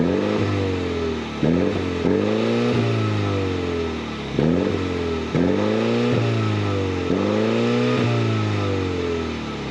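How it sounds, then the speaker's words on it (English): A 2022 Mini Convertible John Cooper Works engine with active exhaust is revved repeatedly, with about six sharp blips that climb and fall back to a steady idle, loud and close, with a gravelly exhaust rasp. "Let me fire up so you can hear what this motor sounds like real quick."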